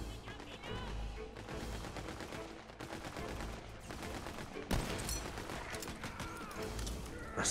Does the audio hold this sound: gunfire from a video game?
yes